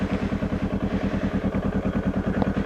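Warm motorcycle engine idling with a steady, rapid low thumping pulse, close and continuous, its revs settling slightly lower.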